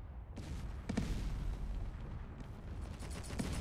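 Heavy cannons boom in Space Engineers during a ship battle, a dense rumbling barrage with a few sharper bursts standing out, loud and close with no voices.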